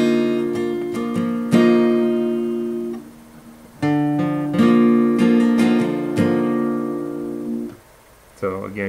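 Acoustic guitar strummed through an unusual barre chord from a song, several clear ringing strums and picked notes that let ring and decay, heard alone up close.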